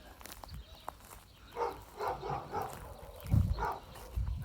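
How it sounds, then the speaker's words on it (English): Several dogs from the neighboring yard in a small Washington town bark in short repeated bursts, fairly distant and moderately loud, with a few whimpers between the barks. "The neighbor dogs aren't happy with me."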